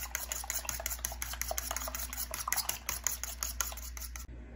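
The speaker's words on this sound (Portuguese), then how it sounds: "Coloquei aqui um ovo, um pouquinho de sal. Vou estar misturando aqui." A fork or whisk mixes an egg with salt in a bowl, making a steady run of quick, light clinking taps against the bowl for about four seconds, close and fairly quiet, with no talking.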